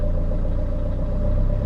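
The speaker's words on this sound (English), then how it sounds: "it's just building up the revs there." Renault 1.9 dCi diesel engine held at floored throttle, a steady, loud, close rumbling drone with a low pulsing note that climbs only slightly throughout.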